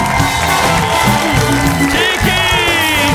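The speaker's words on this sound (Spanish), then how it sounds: "¡Un aplauso para Chiqui!" A studio audience at a Spanish-language TV talent show cheers and applauds to welcome a guest judge: a loud, continuous crowd roar with whoops, mixed with tonal music-like sound throughout.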